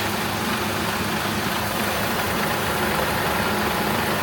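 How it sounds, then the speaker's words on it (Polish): Under the hood of a Renault Espace IV with a 2.0T engine, a radiator cooling fan whooshes steadily while the engine idles, a dense, constant broadband roar heard close with no talk. "O, wentylator zaczął pracować."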